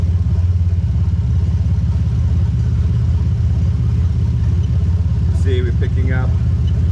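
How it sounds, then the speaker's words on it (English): A Toyota JZ-GE VVT-i engine swapped into an IS200 with a J160 gearbox idles close by with a steady low rumble and a rough, misfiring beat; someone speaks briefly near the end. "since we've had the engine running"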